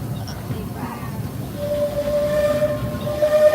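A Disneyland Railroad train rolls along the rails with a steady low rumble that builds, while a high whistle-like squeal of wheels on track rises, and a voice speaks over it part of the time.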